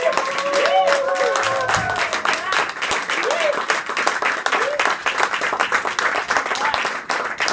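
A church congregation claps and cheers loudly and steadily, a dense wall of applause with whoops and shouted voices rising above it throughout.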